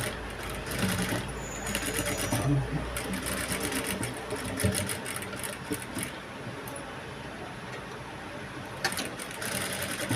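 Sewing machine running steadily while stitching loaded piping onto a potli-button blouse, a continuous rapid mechanical whir with brief pauses and shifts in speed, close and fairly loud.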